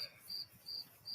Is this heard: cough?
no